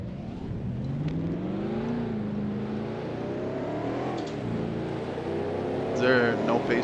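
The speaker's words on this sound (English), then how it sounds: "Drivers, start your engines!" Race car engines in NASCAR Racing 2003 at Speedway 95, a steady low rumble with rising and falling revs from several cars idling and blipping together, moderately loud, with a voice talking over it.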